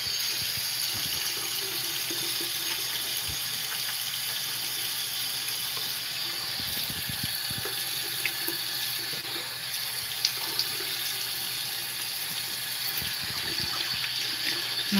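Tap water runs steadily into a sink while a face is rinsed with a natural acne remedy, a continuous broadband rush with faint intermittent splashes and knocks, no voices present.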